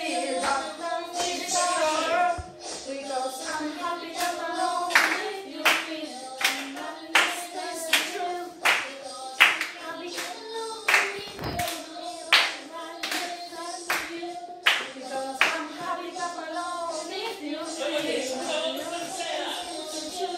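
People clap steadily in rhythm along with an upbeat song, the sharp claps evenly spaced and prominent over singing voices throughout.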